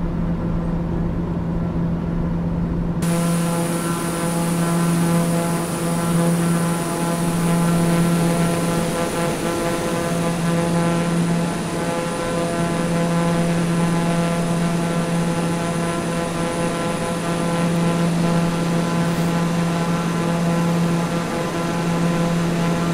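A propeller aircraft engine drones at a steady, loud, unbroken pitch in Microsoft Flight Simulator 2020 during a bush flight, with a rhythmic pulsing hum that holds constant throughout.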